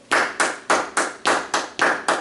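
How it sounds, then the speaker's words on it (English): Eight sharp hand claps in a steady, even beat, close and loud with brief silences between them, picking out a rhythm in a music theory lesson. "I'm going to clap what the notes say"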